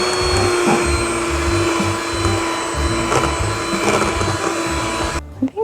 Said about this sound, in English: I like my KitchenAid mixer just a little bit better, because I feel like it mixes things a little more smoothly